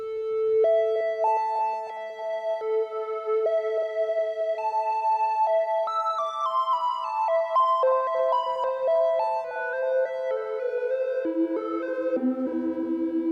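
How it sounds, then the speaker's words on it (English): Analog synthesizer oscillators tuned slightly apart so their pitches beat against each other, playing a slow melodic line of sustained tones that step up and then drift down, clear and moderately quiet with no talking. "you can hear what happens when the tone is just slightly out of pitch with respect to each other"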